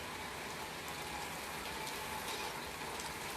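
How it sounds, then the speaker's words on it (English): Soft to medium rain falls steadily at night, a continuous even hiss of drops on surfaces with no breaks or voices, fairly quiet throughout. "It's soft rain right now,"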